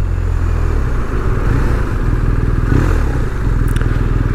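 A BMW R1250R motorcycle under way with the throttle closed, engine braking as a steady low rumble alongside wind roar and road noise throughout, with no voice over it.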